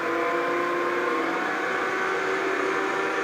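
A wood lathe motor winds up to about 1600 rpm while turning a bowl, a steady whining hum with bright tonal lines holding constant, loud and close, no talking.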